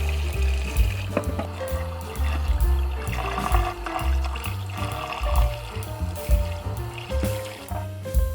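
Beetroot, carrot and purple potato being washed in water, with continuous splashing, sloshing and trickling close by, steady and fairly loud throughout with no talking.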